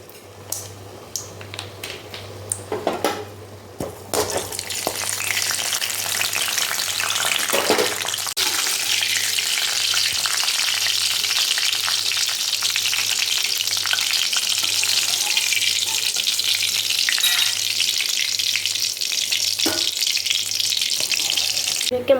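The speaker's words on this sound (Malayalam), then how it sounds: "ഇനി നമുക്ക് അണ്ടിപ്പരിപ്പ് മുന്തിരി ഫ്രൈ ചെയ്തെടുക്കാം" Cashews and raisins fry in a pan with a loud, continuous close sizzle that swells after a few seconds of scattered clinks and stirring, then holds steady to the end.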